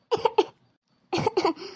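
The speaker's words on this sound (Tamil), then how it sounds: "பேச முடியல இருமலா வருது" A person with a sore throat coughs in two close, loud bursts, each a quick run of three harsh, chesty hacks, separated by a short silence.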